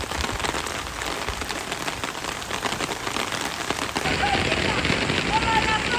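Steady rain falls on hard surfaces outdoors during a holiday, a dense, close hiss of drops that grows slightly louder partway through, with children and adults talking faintly underneath.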